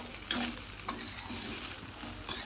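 Gobi fried rice is mixed in a pan, with a spatula scraping and shuffling rice over a continuous gentle sizzle, close and steady, with no talking.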